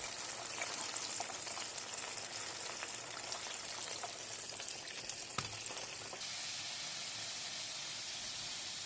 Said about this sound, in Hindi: तो इस तरह से जो है हम एक एक करके जो है सारे का सारा चिकन उसको फ्राई कर लेंगे